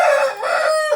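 A small Japanese bantam rooster crows once, loud and close, a strained nasal call that rises and then trails off with a short upward flick at the end.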